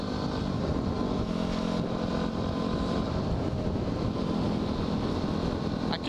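A dirt bike engine drones steadily while riding on an evening road, with constant wind rush over the microphone and no break in the motor's hum.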